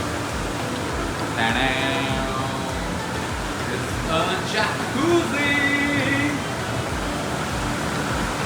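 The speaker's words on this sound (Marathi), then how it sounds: "बाहेर पाऊस पडतोय, पावसाचा आवाज आहे" Steady rain hisses outside without a break in Dapoli, and a voice talks quietly over the constant wash of falling water.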